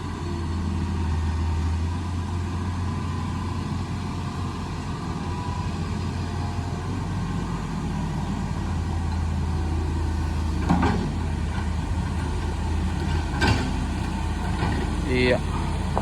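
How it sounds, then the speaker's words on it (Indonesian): A 4x4 car climbs a steep, freshly repaired road near a village, its engine a steady mid-pitched rumble that holds throughout, with faint voices and a few short knocks toward the end. "kita simak dulu nih mobil 4x4 yang melewatinya"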